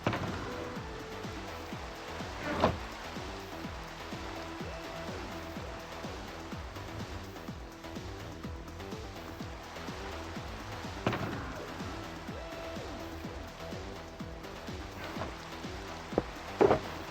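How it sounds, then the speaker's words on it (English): Rain in the Minecraft video game falls as a continuous soft patter and hiss, with a few louder thumps scattered through it and no talking. "And of course, it's raining."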